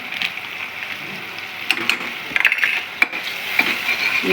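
Vegetables sautéing with pav bhaji masala in an oiled pan: a steady soft sizzle with scattered spatula scrapes and clicks against the pan, close up, no talking.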